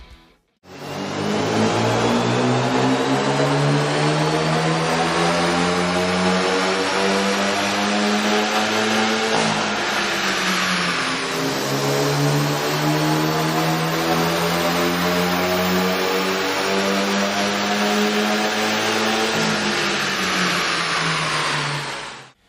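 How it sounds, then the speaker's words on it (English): Hyundai Veloster 1.6L turbo engine with a K&N cold air intake running on a dyno, a loud continuous drone that climbs steadily in pitch through a long rev pull, eases briefly near the middle, then climbs again before cutting off. "we ran the vehicle on the dyno to test the sound comparison versus the stock intake"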